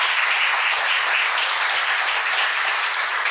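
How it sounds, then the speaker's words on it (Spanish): A seated audience at an education lecture gives a dense, even round of applause to welcome the speaker, a continuous wash of clapping that holds at one level from start to finish. "les pediría por favor, para dar la bienvenida, que le brinden un fuerte aplauso al doctor David Pérez Arenas"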